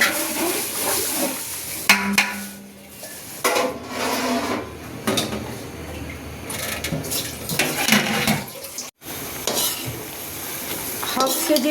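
Garlic frying in half a kilo of mustard oil in a big pot, with a steady sizzle broken by loud scraping and stirring clatter of a utensil against metal.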